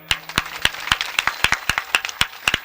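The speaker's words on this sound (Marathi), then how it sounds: "दुसरी टाळी होऊ द्या गायनाचार्यांसाठी." An audience gives a short round of claps for the singers at a Marathi kirtan, sharp separate claps in a quick uneven rhythm, close and fairly loud.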